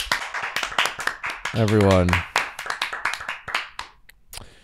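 A short burst of clapping and cheering rises briefly in the middle, with a person talking before and after it.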